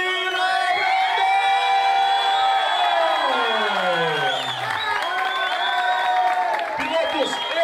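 A crowd at a kart racing podium ceremony cheers, whoops and applauds the Mirim category winner, loud and sustained; whistles and shouts ride over the clapping, and a falling whistle-like tone sweeps downward midway.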